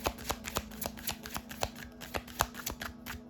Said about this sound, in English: And one last shuffle